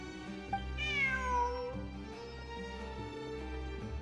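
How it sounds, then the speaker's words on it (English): A cat in a video game gives one clear, drawn-out meow that rises and then falls, close and fairly quiet, followed by a low steady background hum with no talking. "Look, a cat."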